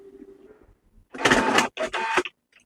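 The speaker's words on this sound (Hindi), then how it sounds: "दोस्तों हमारे प्रिंटर ने पेपर ले लिया है।" A Canon G-series inkjet printer (G3012/G2010/G3010), previously showing an E03 paper pickup error, pulls in a sheet while starting a copy: a faint hum, then two loud whirring mechanical bursts, close and without speech.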